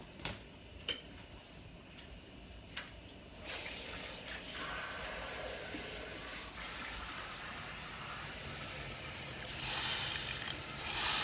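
A few light clinks, then a steady rush of water pouring into a pot for lobster bisque, continuing for several seconds and swelling slightly near the end.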